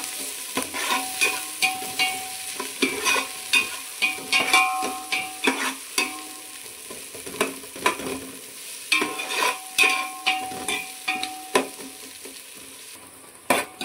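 Curry leaves crackle and sizzle in hot oil for a chicken green masala, with bursts of frying and a spoon stirring rhythmically through the pan, loud and close with no talking.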